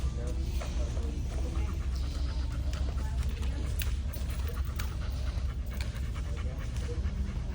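A German Shepherd dog pants steadily and rapidly close by, the quick breaths continuing throughout over low background rumble, with faint voices present.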